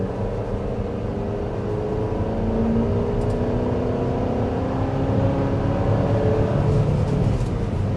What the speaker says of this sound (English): When you really get into the throttle, and even under, honestly, normal acceleration, it makes a lot of noise.